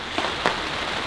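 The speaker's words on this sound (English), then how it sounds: "then it started raining" Rain falling outdoors, a steady dense patter with a couple of brief louder splashes, close and fairly loud with no other sounds.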